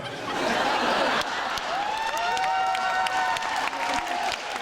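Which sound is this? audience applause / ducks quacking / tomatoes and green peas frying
audience applause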